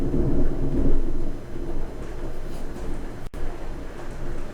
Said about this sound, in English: it is raining outside. I don't know if you can hear the thunder.